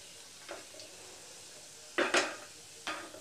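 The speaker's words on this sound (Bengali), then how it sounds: "এবার আমি উচ্ছেগুলোকে দিয়ে দেব।" Bitter gourd pieces tipped into hot oil with chopped garlic in a pan set over lowered gas, giving a few sharp sizzling bursts and clatters over a quiet background hiss, with no talking.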